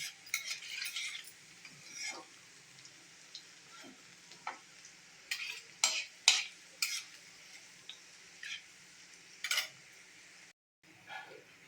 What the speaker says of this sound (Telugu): ఇంకా వెల్లుల్లిపాయలు వేగినాయి కదా